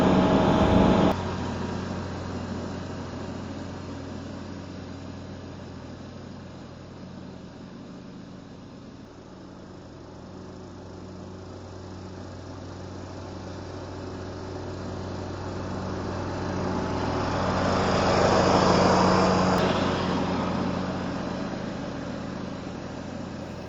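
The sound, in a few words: John Deere LA105 riding mower engine running on cheap carburetor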